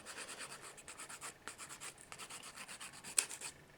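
A strong-grit hand nail file rubbing across SNS dip-powder nails, a close, steady run of short back-and-forth scratchy strokes with one sharper scrape near the end, no voices.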